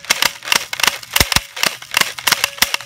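An electric airsoft Uzi fires in semi-automatic mode outdoors, giving a fast, regular run of sharp, loud, close snapping shots, about a dozen in quick succession with no talking.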